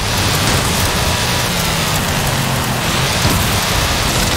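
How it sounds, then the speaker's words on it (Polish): Howling sandstorm in Forza Horizon 5, a dense, steady roar of wind and grit filling the whole scene, loud and unbroken with a low rumble underneath and no voices. "Nic nie słyszę przez tą burzę"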